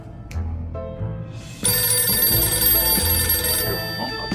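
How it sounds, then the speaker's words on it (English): An old-style telephone bell ringing in the video game 60 Seconds! Reatomized, a loud, sustained metallic trill that breaks in abruptly after a quieter lead-in and rings on for several seconds with no talking. "A phone is ringing."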